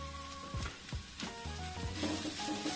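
Onion and ginger-garlic paste frying in a pan make a low, steady sizzle broken by several scraping stirs of a spoon, with a faint tonal hum in the background.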